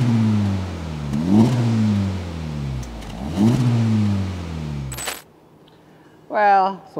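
Honda Civic Type R 2023 engine revving through its large center exhaust, two rising-and-falling revs to a soft limiter around 4000 rpm, close and loud, followed by a brief sharp clatter and quieter aftersound.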